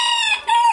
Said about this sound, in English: we have our little Sarama roosters